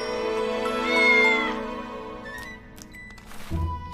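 A cartoon cat lets out a drawn-out, wavering meow, loud and sustained at first, then fades into soft scattered clicks and a low thump at the end, with no talking.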